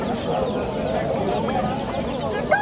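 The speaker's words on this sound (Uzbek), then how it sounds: "Xo'rozchi mana xo'roz." A rooster clucks at a busy Namangan bazaar, faint under a dense wash of crowd noise, with people talking throughout.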